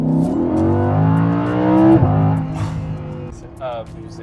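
A Lamborghini Huracán Spyder engine revs up loudly with a rising roar, then drops away, while people talk excitedly over it.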